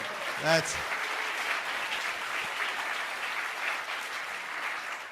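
Steady, full applause from a large crowd at a university free speech event, continuing evenly throughout, with a brief voice calling out near the start.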